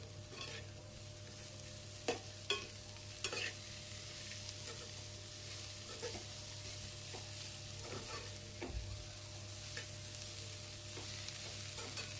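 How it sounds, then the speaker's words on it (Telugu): Boiled cabbage pieces are stirred into fried coconut and onions in a pan, with a soft continuous sizzle and scattered scraping clicks of the spoon over quiet, steady frying. "ఇప్పుడు మనం ముందే ఉడకపెట్టి ఉంచుకున్న క్యాబేజీ ముక్కల్ని ఇందులో వేసి కలపాలి."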